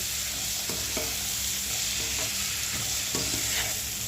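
Sweet corn fries in butter with a steady broadband sizzle, broken by a few soft scraping stirs of a spoon in the pan; close and continuous, no voices.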